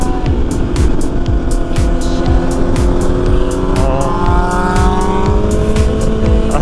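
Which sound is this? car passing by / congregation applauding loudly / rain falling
car passing by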